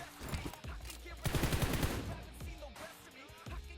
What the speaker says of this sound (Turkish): Botçuk tabanca attı bana.